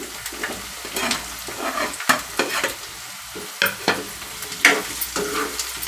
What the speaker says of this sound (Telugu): అరటికాయ ముక్కలు కానీ బాగా ఫ్రై అయ్యేదాకా వేయించుకున్నాము